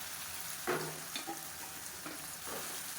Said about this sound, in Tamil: சேர்த்துட்டு இந்த எண்ணெயில் வந்து நல்லா ரோஸ்ட் ஆக்கிக்கலாம்